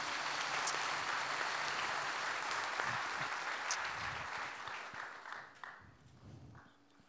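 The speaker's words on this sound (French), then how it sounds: "Et on vous applaudit encore, Jean-François Nardeau." An audience applauds an award winner at a Crédit Agricole Centre Ouest ceremony, a quiet, distant wash of many hands that thins and fades toward the end.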